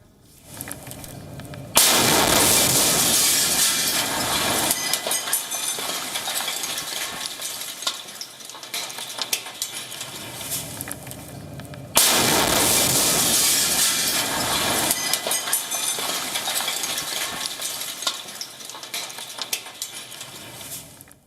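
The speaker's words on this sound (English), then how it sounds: "Close to Kiev, a Russian tank was moving through a quiet neighborhood. Someone was trying to capture a video. The Russian tank fired right at them." A Russian tank fires close by in a quiet neighborhood near Kiev: two sudden, very loud blasts, each followed by several seconds of roaring, distorted noise, with no talking.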